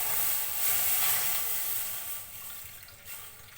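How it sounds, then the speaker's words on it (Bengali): Milk pours into a pan while khersha patishapta is being made, giving a steady, close, hissing splash for a few seconds with no talking. "এই দুধ ঢেলে দিলাম, দুধটা একটু গরম হোক।"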